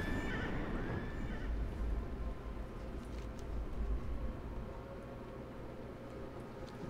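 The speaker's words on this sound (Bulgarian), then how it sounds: "в такъв случай отново аз съм на кон" A horse mount in World of Warcraft whinnies at the start, then its galloping hoofbeats carry on steadily beneath a constant faint hiss.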